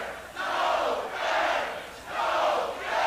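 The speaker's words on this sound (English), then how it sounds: "There's got to be a crowd out there." Crowd noise drifts in from outside in an empty city square, a broad murmuring roar that swells and fades in slow waves, distant and continuous with no clear voices standing out.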